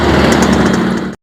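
Motorcycle with a modified, crisp growling exhaust runs steadily and loud and close, a dense rumbling drone that cuts off abruptly after about a second.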